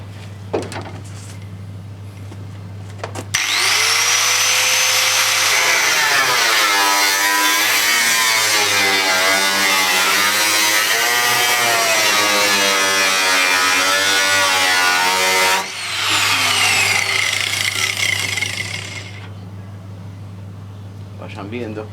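Volkswagen Caddy fitted with a VR6 engine, idling and then revving under an open, propped-up hood: a loud, close, sustained mechanical drone that climbs and wavers in pitch, dips briefly, then runs on before cutting off.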